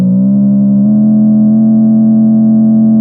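A UVI Synth Anthology 5 synth patch holds one sustained, loud resonant tone while its filter is swept, the timbre shifting and brightening partway through, alone with no talk.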